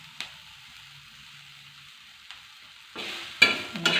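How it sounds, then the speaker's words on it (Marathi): Green chili thecha with onion being sautéed and stirred in a pan, Satara style; quiet sizzling runs throughout, with louder scraping stir strokes near the end. "आणि असं परतून घ्यायचं चांगलं."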